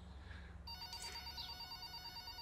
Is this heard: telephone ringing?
yes